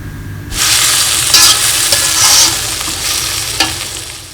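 Chicken and okra masala with chopped tomatoes being fried and stirred in a pan, a loud close sizzle starting suddenly and holding steady with scraping stirs, no voices.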